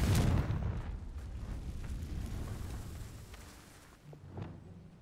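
A blasting-spell explosion in the Hogwarts Legacy video game sounds as one deep booming burst up front, then fades into a rumbling tail with faint crackles and a smaller thud near the end.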